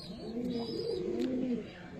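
A male Andha Fulchura pigeon coos in a loft, a low, rolling, drawn-out call that rises and falls over about two seconds, close and steady against faint background noise.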